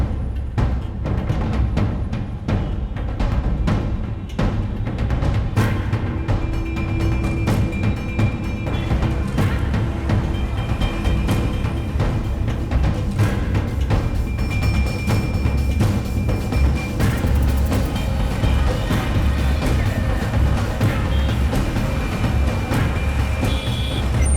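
A car turning around in a U-turn, its engine rumbling steadily and fairly loud throughout, with no clear voices over the continuous noise.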